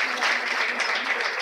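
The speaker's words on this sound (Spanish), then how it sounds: "un aplauso para él" Audience applause at a university journalism conference in Spain, a steady, dense wash of clapping from a seated crowd filling the short moment without pause.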